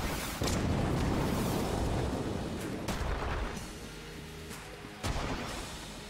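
A blank going off in the Enter the Gungeon bullet-hell game, a loud, dense burst that sweeps the screen and dies away, with further sharp shots and a thump a few seconds later.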